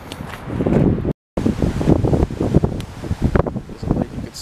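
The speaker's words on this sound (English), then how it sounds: "It's still very windy out here." Strong wind blowing outdoors beside storm-swollen high water near spillways, a steady loud roaring buffet of gusts against the microphone with a brief dropout partway through.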